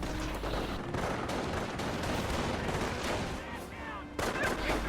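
Machine gun fire and other gunfire in a competitive real-time strategy match, with dense, continuous bursts and booms layered together at a moderate level and a sudden louder burst near the end.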